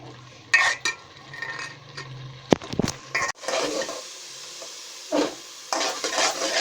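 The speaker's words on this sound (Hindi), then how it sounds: "तो ये देखें हमारे हलवे की अच्छे से भुनाई हो रही है।" Carrot halwa is stir-roasted in a pan, a ladle scraping and knocking against the metal in uneven bursts with soft sizzling between strokes, close and without speech.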